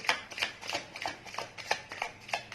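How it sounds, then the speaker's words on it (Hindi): A deck of tarot cards being shuffled, repeated soft riffling flicks in an uneven rhythm, close and fairly quiet, with no talking. "Last shuffle."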